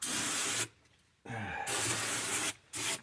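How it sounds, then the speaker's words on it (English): Brake cleaner sprayed onto the rear differential of a 2000 Mustang, three close, loud hissing aerosol bursts separated by brief pauses. "I'm going to hit it with brake cleaner again."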